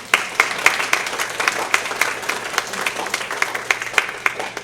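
A lecture-hall audience welcomes Dr. Michael Krol, a geriatric physician, with steady applause, many hands clapping densely and evenly for the whole stretch, fairly loud and with no voices over it.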